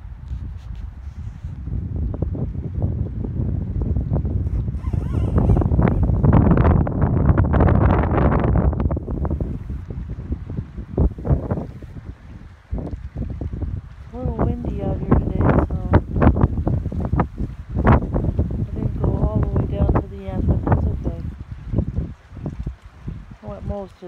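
Steady wind buffets the microphone while a kayak drifts on Bowman Lake in Glacier National Park. A constant roar swells and eases, with small splashes and knocks and brief bits of voice now and then.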